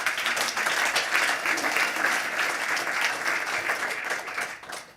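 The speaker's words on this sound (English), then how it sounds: "Please, a quick round of applause." Sustained audience applause at a Berlin conference on global health, a dense, steady wash of many hands clapping that fades slightly toward the end, with no talking over it.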